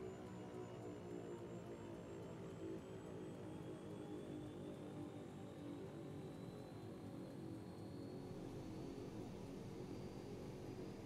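Piston aircraft engines in the X-Plane 11 flight simulator on an Alaskan bush flight, a steady close drone with a high whining tone rising slowly above it, running alone without talk.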